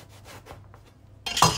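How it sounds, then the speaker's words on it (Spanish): A knife cuts through eggplant on a skewer for hasselback slices, soft rasping strokes followed by a sharper, louder scrape as the blade meets the skewer, close and brief with no talk. "ahora cortamos y veis no llega al final porque chocamos con la brocheta"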